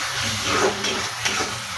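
Continuous close hiss and sizzle of spice paste frying in hot oil, steady and loud throughout the short stretch.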